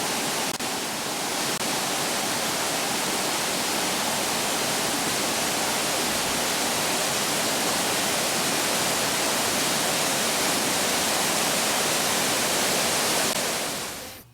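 Mingo Falls in the Smoky Mountains of North Carolina roars as a steady, broadband rush of falling water, loud and close, with no voices.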